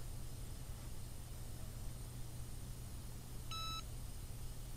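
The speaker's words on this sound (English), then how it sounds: "the timer has rung" A short electronic beep pattern sounds once, brief and fairly clear, over a steady background hiss and low hum.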